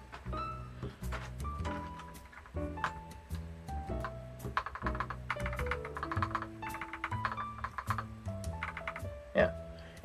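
Keys clack on a Kchibo NJ63Pro 60% keyboard fitted with thick Idobao keycaps, an irregular run of sharp taps heard close up, mixed with a melodic background tune.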